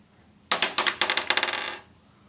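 A die rolled for a tarot reading, a quick clattering burst of about a dozen bright rattling taps over roughly a second and a half, close and fairly loud.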